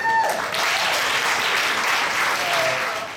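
A crowd applauds runners from a police athletic league youth team at an outdoor race, a steady wash of clapping for about three seconds, moderately loud.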